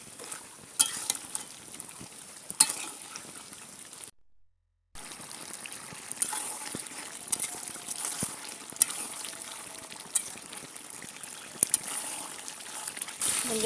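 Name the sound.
beef frying and stirring with spices in a pan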